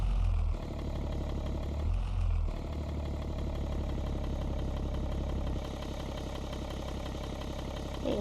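A car engine idles steadily and close by, a low, even rumble that holds throughout with a brief dip in level near the start and a slight drop partway through; no one speaks.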